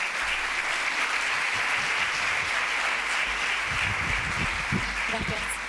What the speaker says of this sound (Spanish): Por favor, Lara, un aplauso para ti.